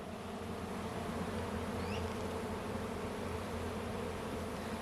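Honeybees buzz densely around an opened hive during a mid-July inspection, a steady close drone that fills the whole stretch without pause and with no talk over it.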